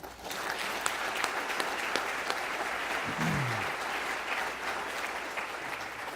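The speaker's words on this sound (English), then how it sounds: "please give a round of applause to all of our government workers" A county audience at a State of the County address applauds government workers, a sustained loud wash of clapping with a few sharper claps and a brief low voice partway through.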